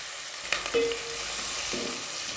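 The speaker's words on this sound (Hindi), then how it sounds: "और थोड़ी देर इनको भूनना है।" Mixed vegetables with tomato and green chillies frying for pulao, a close, even sizzle of hot oil broken by a couple of brief metallic scrapes of a spoon stirring the pan.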